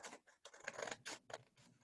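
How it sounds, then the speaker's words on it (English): Scissors snip through paper along a straight line, about half a dozen quick, close, quiet cuts in an irregular rhythm with no talking. "I can cut along that line there"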